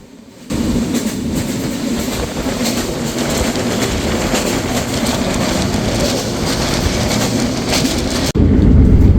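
Steady rumble of the Kapotaksha Express passenger train rolling along the rails at about 80 km/h, with a continuous rattling clatter throughout, loud and close, as if heard from inside a carriage.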